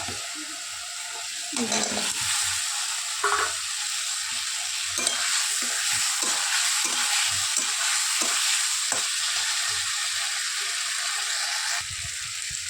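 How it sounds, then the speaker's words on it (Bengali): Potato and pointed gourd fry in a spice masala, giving a steady bright sizzle throughout, broken by frequent scraping and stirring clatters of a utensil against the pan. "সুন্দর মশলাটা কষানো হয়ে গেছে আলু পটল এই যে আলু পটলটা"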